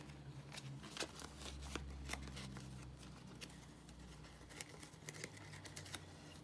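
Scissors snipping paper pieces for a collage, a series of close, quick, irregular cuts and light paper rustles, with no talk.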